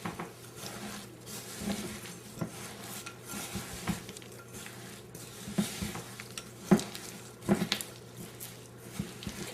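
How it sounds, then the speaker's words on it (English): A spoon stirs sugar and corn syrup together in a bowl for peanut brittle, soft scraping and occasional clinks against the sides, quiet and irregular with no voices. "You're going to stir it as well as you can right now just to get everything mixed together."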